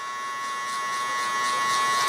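Electric hair clippers fitted with a half guard buzz steadily and close by while flicking out a mid taper haircut, a constant even hum with a thin whine that swells slightly.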